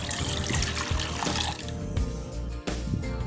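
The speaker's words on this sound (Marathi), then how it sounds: "आता ती स्वच्छ धुवून घेते।" Overnight-soaked urad dal is rinsed under running water, a close splashing and trickling stream with brief swishes as the lentils are stirred and washed.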